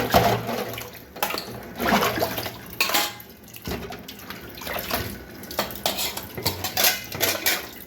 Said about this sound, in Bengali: তো থালাবাড়িগুলো ধুয়ে রাখলে আসলে সুবিধা হয় বেশি